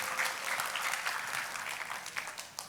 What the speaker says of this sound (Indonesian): Kita kasih tepuk tangannya pula yang paling meriah buat Tuhan dia.